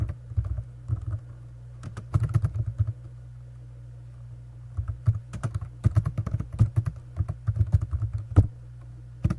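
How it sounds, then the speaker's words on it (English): Computer keyboard keys are typed in two quick bursts of close, crisp clicking with a quiet gap between them, over a low steady hum and with no speech. "Type in 30-minute marketing."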